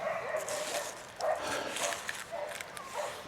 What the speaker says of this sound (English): Barely in control of that dog.